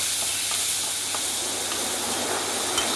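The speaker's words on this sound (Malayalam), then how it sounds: "ബാക്കിയുള്ള ചുണ്ടങ്ങ കഴുകി പിഴിഞ്ഞെടുത്ത ചുണ്ടങ്ങ കൂടി ഇട്ട് നന്നായി ഒന്ന് വഴറ്റിയെടുക്കാം" Turkey berries sauté in hot oil with mustard and fenugreek seeds, making a continuous loud, hissing sizzle with faint stirring taps underneath, and no talking.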